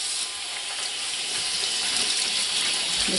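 Tap water runs steadily into a sink to rinse a pan, a constant close hiss and splash with no speech.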